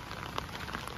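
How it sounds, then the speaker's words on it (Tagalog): Steady patter of rain falling on a surface, a dense even hiss with scattered drops, no talking. "It's raining."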